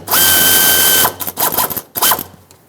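An 8mm socket on a ratchet loosening hose clamps on a 1999-2007 Ford F-350 7.3L Powerstroke, close, loud bursts of rapid whirring clicks, one long run followed by shorter ones.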